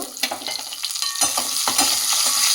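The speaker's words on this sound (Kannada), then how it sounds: "ಈಗ ಎಣ್ಣೆ ಕಾದಿದೆ. ನಾನು ಸ್ವಲ್ಪ ಸಾಸಿವೆ, ಜೀರಿಗೆ," Mustard seeds, cumin and pepper crackle and sizzle in hot oil, close and steady, with irregular popping bursts and the scrape of stirring, no voices.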